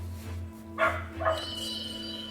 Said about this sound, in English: My dogs are barking again.